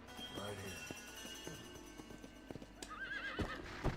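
Horse hooves clopping and a neigh in the Red Dead Redemption video game, with scattered hoof hits and a wavering whinny near the end, under game sounds and a person talking.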